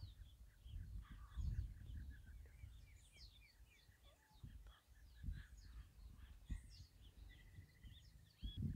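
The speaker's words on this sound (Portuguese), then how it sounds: "é assim que tem muito pássaro" Many birds call outdoors on a rural smallholding in Araripina, with crows cawing and assorted chirps scattered throughout at moderate distance over low wind rumble, no talk.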